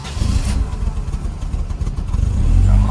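A car engine with a faulty idle control motor runs nearby, its low rumble wavering unevenly as the idle dips and climbs, rising toward the end.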